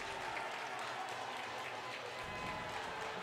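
Loud, dense hockey arena crowd roaring and clapping after a big hit in a varsity game, a steady wall of cheering and applause that holds its level throughout.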